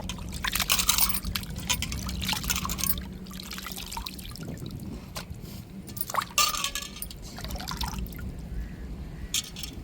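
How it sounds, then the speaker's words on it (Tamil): Chicken pieces being rinsed by hand in a bowl of water, with repeated wet squishing, sloshing and dripping bursts in an irregular rhythm, close and moderately loud. "நல்லா ரெண்டு தண்ணி மூணு தண்ணி வச்சு நல்லா சிக்கனை அலசி எடுத்துக்கிறேனுங்க"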